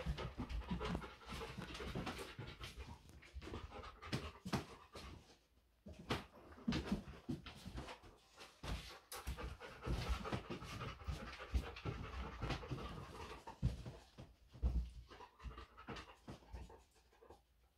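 A dog pants rapidly and steadily throughout an indoor nosework search, breathing hard close by, with occasional footfalls and light bumps mixed in.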